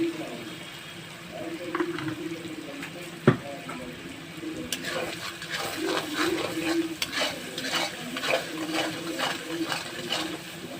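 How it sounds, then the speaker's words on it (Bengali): Spice masala frying in oil for a Bengali potol (pointed gourd) dish, with steady sizzling and repeated scraping stirs of a spoon against the pan, plus one sharp knock early on and busier stirring through the second half. "মশলাটা কষানো হয়ে গেছে"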